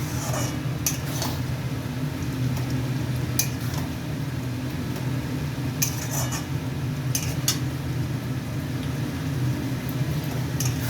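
Masala for a Bengali bhetki fish dish sautés in oil in a pan, a steady low sizzle running throughout with scattered clinks of a spoon against the pan.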